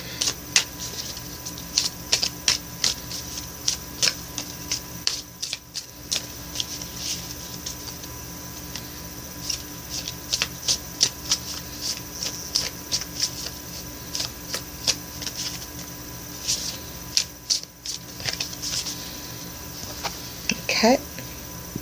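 A deck of oracle cards being shuffled by hand: quick papery riffles and taps in irregular bursts, pausing briefly twice before a final flurry.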